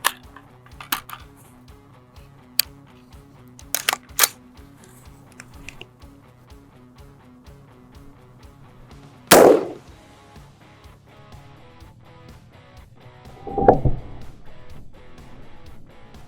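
Someone fires a 5.56 rifle with a 16-inch barrel, shooting an M193 round into a box of Kevlar layers. There are two sharp, loud cracks several seconds apart, with scattered clicks and handling noises between them.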